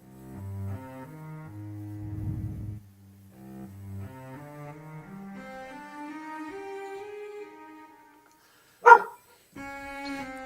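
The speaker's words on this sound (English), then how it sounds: "That dog sounded amazing." Dog-like yelps rise and fall in pitch in a tune-like sequence, followed by a sharp, louder bark near the end and more tonal yelps after it.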